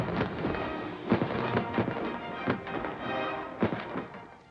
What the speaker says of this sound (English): firing these anti-tank World War II guns